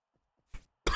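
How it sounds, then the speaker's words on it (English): A single short cough, close and sharp, comes after near silence, followed by a brief loud burst at the end. "Yeah, my cough."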